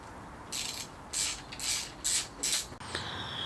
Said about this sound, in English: So I'm going to loosen this bracket here, holding all the wires.